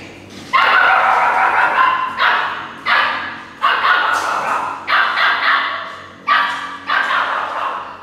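A dog barks loudly and close by in a run of about eight sharp, forceful barks in an uneven rhythm, with little else around.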